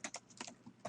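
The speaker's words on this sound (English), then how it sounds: "we're going to type our information" Quiet typing on a computer keyboard, a quick series of light, close key clicks in an irregular rhythm, with no voice.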